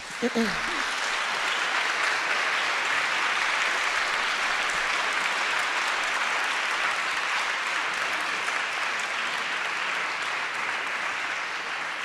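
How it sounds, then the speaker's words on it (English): Loud, sustained audience applause after a talk on activism and human rights, a dense, even roar of many clapping hands that holds strong for over ten seconds, with a brief voice at the very start. "you can really tell from the warmth of the audience and the loud applause"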